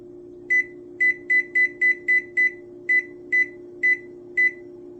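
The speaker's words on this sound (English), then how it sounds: "Now you want to put your air fryer on 400 for 12 minutes." An air fryer being set to 400 for 12 minutes gives a run of eleven short, clear electronic beeps at uneven spacing over a steady low appliance hum.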